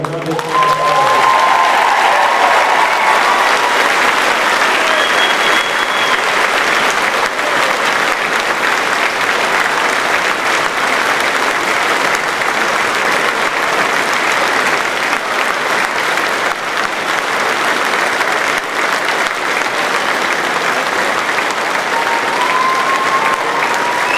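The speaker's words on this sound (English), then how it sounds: "Let's go ahead and have a wonderful applause." Sustained applause from a large crowd at a high school graduation ceremony, dense and even throughout, with a few faint voices mixed in.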